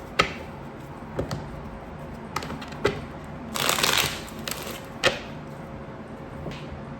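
Tarot cards being shuffled close up: a string of sharp taps and flicks, with a denser riffling burst partway through, in a quiet room with no talking.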